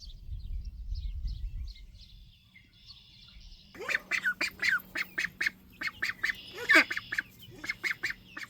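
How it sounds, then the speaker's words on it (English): Small ducks kept alongside young laying chickens on a farm, quacking in a rapid run of short, close calls that starts partway through after a quieter stretch with faint birds and low rumble. "Couple little layered chickens we have trying to get started, and Maddie's little ducks."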